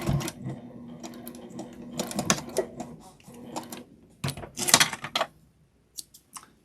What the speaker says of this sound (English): I'm just going to back stitch.